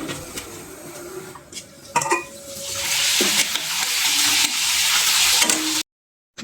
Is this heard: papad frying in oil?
yes